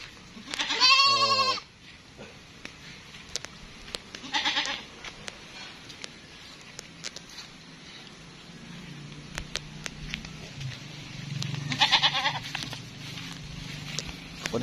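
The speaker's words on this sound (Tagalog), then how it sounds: "yung ating mga kambing na bagong panganak" Newborn goats on a farm bleat loudly in short bursts, with a strong close call near the start, another around four seconds and a third later, over a quiet background with scattered clicks and movement.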